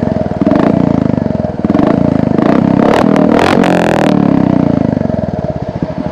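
A Royal Enfield Hunter 350 fitted with an SC aftermarket exhaust idles close and loud with a heavy, deep thumping pulse, breaking into a few sharp throttle blips partway through before settling back to a steady idle.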